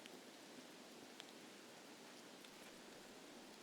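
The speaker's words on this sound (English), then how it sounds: "I guess because of the rain." Steady rain hiss in the Escape from Tarkov Lighthouse map, a dense, even wash of falling drops with faint scattered patters, low and constant throughout with no voices.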